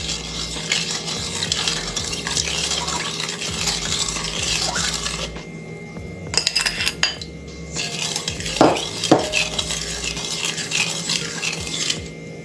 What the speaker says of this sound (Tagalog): Stir natin.